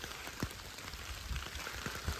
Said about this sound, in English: So let's have a rainy walk.